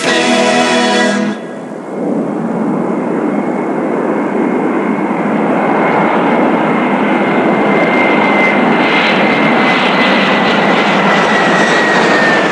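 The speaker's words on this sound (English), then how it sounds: "The Kiss FM Royal Airlines jet is in the air." A jet aircraft engine roars loud and sustained in a radio station promotion, with a brief tonal sting at the start before a thick, rising whine builds and carries through to the end, no voices over it.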